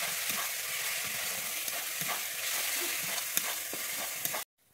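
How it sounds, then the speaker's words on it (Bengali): Ginger and garlic fry with chili powder in a pan, giving a dense, steady close-up sizzle with scraping stirs, then cutting off abruptly near the end. "আমি আদা রসুনটাকে ভালো করে ভেজে নিচ্ছি"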